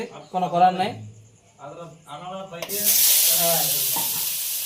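Cut potatoes, about rasgulla-sized, drop into very hot oil and a loud, steady sizzle takes over for the last couple of seconds, following a stretch of someone talking.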